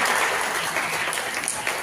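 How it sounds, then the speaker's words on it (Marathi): An audience claps for a teacher at a school annual function, producing a dense, even wash of applause that carries on steadily for the whole stretch without a break. "एकदम एकदम व्यवस्थित टाळ्या वाजवा सरांसाठी"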